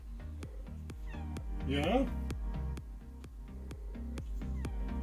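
A cat gives a single drawn-out meow close by on an electronics workbench where leaded solder is being used, over steady rhythmic mechanical ticking and a person's brief voice.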